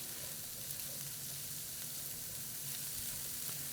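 Onions and garlic sizzle steadily in a pan over medium-high heat, an even, dense frying hiss close up with no voices.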